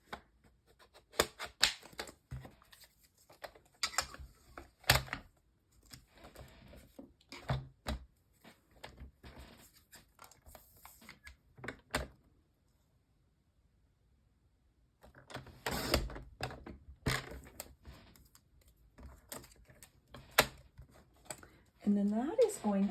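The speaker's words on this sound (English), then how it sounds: "I'm going to go ahead and grab my trimmer here and trim this down." A paper trimmer cuts through cardstock in a card-making class, making repeated close, sharp slicing clicks in bursts separated by pauses, with a person talking around them.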